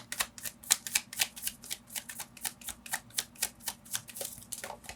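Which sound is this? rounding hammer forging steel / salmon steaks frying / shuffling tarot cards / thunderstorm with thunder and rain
shuffling tarot cards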